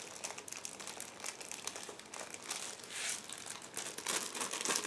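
Close, soft crinkling of a plastic model kit bag as a paper clip is taken off it, a continuous run of rustles and crackles with no speech.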